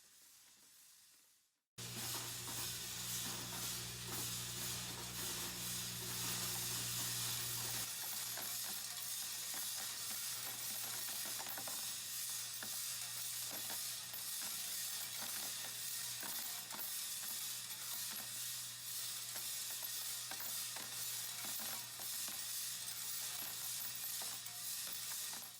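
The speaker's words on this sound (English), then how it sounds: "the rest of the media falling out of the cases as they tumble through the 4-foot trommel" Brass cases tumble through a 4-foot five-sided trommel media remover, a dense continuous rattling and clinking of metal over a steady motor hum, loud and close throughout with no voices.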